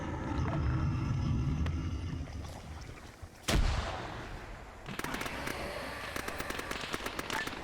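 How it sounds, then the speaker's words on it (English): Vehicles blown up inside a hangar in Arma 3, a rumbling low explosion early, then a sharp heavy blast, followed by a string of crackling secondary pops and bangs. "We're going to detonate the vehicles inside the hangar"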